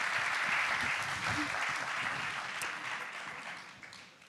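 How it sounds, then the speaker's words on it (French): Audience at a talk on gastronomic media applauds the departing president, a brief, moderately loud round of clapping that gradually thins and fades toward the end. "Quelques applaudissements pour Monsieur le Président, qui file prendre son train."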